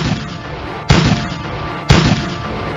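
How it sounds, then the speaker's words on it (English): Two heavy cannon booms from a pirate ship, about a second apart, each a sharp loud blast followed by a rumbling tail, set against steady background noise. "Fire the cannon!"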